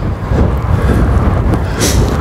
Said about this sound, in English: It is phenomenally windy.